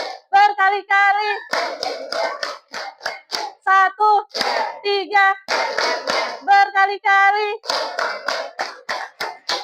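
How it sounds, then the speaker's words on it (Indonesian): Children in a classroom clap hands in short rhythmic bursts, loud and close, alternating with a teacher and kids chanting counts between the claps. "tepuk tangan untuk semuanya"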